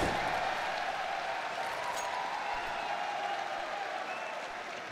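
A crowd in an arena at IEM Sydney cheers and applauds after a frag in a CS:GO showmatch, making a dense, steady roar of clapping that slowly fades over a few seconds.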